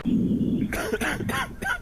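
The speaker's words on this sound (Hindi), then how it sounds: "अरे बहुत खांसी हो रही है इसे।" A zombie character in a video game, a border patrol quarantine zone game, gives a short series of rough, raspy coughs, several bursts packed closely together, close and fairly loud.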